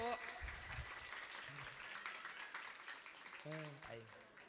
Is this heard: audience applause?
yes